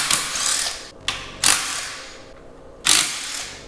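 A ratchet backing out the longer retaining screws on a Dodge Hellcat supercharger lid, several loud close clicking pulls with brief pauses between strokes.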